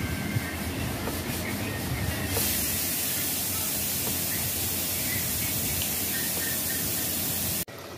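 Cluster beans (gawar phalli) fry in a hot pan with a steady, loud hiss and crackle that runs unbroken for several seconds, then cuts off abruptly near the end.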